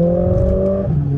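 Mercedes A45S engine pulling hard under acceleration, a loud, close, steady tonal drone held for just over a second from inside the car.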